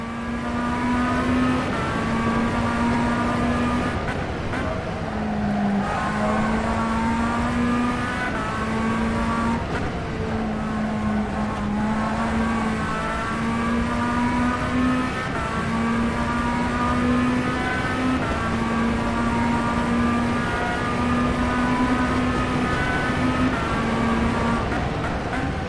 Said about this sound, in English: enjoy the sounds of the engine as I really try and focus on every single apex with this battered and bruised USF-17 car